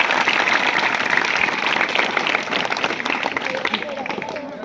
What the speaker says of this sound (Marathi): तर खरोखर या सावित्रीसाठी आपण एकदा जोरदार टाळ्या वाजवून घेऊया